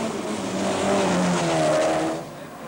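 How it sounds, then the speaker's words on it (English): A Volkswagen Golf Group A rally car at Rally Portugal 1984 races past, its engine loud and close with a rising, changing note and tyre noise, then fading quickly near the end. "Kalle Grundle's reliable Volkswagen Golf is comfortably leading Group A"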